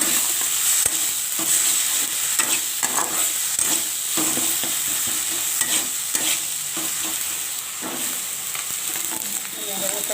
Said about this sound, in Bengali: এটাও ভাজা হচ্ছে।